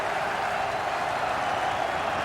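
A cricket crowd at Old Trafford roars and claps for bowler Simon Jones during an Ashes Test, a dense, steady wash of noise with no breaks.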